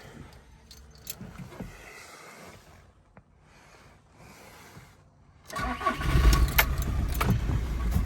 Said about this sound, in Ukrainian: Так, запускаємо автомобіль.